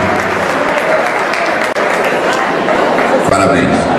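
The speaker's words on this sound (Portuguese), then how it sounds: "Salva de palmas, gente." Audience applause at a couples' dance ball, loud, close clapping from a lively crowd that runs throughout with a brief dropout partway, mixed with cheers and chatter.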